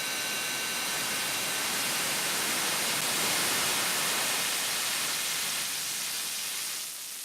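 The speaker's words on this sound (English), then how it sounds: "So this is like particle noise now." Particle noise from an Arturia MicroFreak synthesizer: a steady, dense hiss like fine rain or static, holding level throughout before thinning slightly at the very end.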